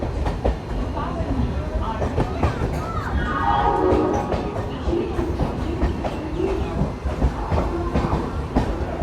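An ICF coach local train entering Shantipur station on a curve, loud continuous rumble with rhythmic clickety-clack of wheels over rail joints and a rising-and-falling squeal of wheels, passing close by.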